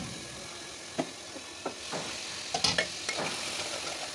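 Chicken pieces fry in a pan after browned onions, a moderate sizzle punctuated by several sharp clinks and scraping stirs at irregular intervals.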